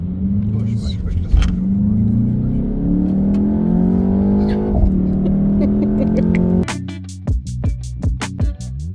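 A 2024 BMW X2, which shares its engine with the X3, runs with a hum that climbs steadily in pitch, then gives way to a series of sharp clicks and taps, with voices in the background.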